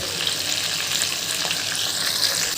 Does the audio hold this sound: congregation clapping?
no